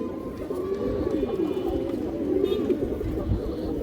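High flyer pigeons coo at a farm, soft repeated throaty calls rising and falling close by, with faint chatter in the background.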